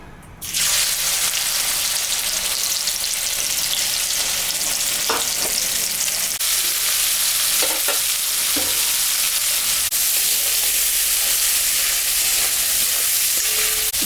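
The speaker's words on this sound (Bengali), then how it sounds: "মাছটা ভাজা আমার হয়ে গেছে আমি এখন তুলে নেব" Fish coated with salt and turmeric fries in hot mustard oil in a wok, making a loud, unbroken sizzle that rises sharply at the start and holds steady with occasional crackles.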